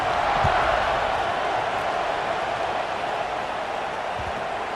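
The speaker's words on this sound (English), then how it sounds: "this crowd is buzzing after that last score" A football stadium crowd at a Tennessee versus LSU game keeps up a broad, steady roar after a score, dense and distant-sounding, with a couple of low thumps.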